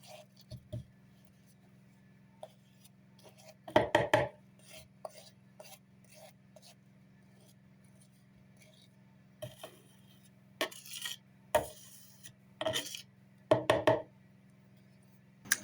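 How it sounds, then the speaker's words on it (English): Scrapes of a wooden spatula against buttercream frosting during cake decorating: sparse, quiet rasping and scraping strokes in short clusters over a low steady hum, with no talk. "So I scraped down the wooden spatula."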